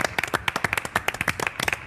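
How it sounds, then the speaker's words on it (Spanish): A studio audience on an Argentine television talk show claps in a quick, irregular burst of sharp, close hand claps that goes on steadily throughout the short stretch. "Les mandamos este aplauso, si les parece bien."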